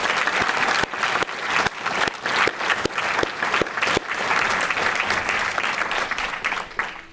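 Audience applause at a school board meeting honoring student athletes, a mix of sharp individual claps and a steady wash of clapping from a moderately sized room, continuing throughout.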